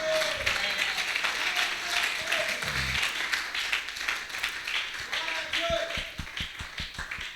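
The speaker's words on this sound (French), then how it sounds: "Donnez une acclamation au Seigneur." A church congregation applauds and cheers for the Lord, a broad wash of clapping with voices mixed in, thinning at the end into a few distinct separate claps.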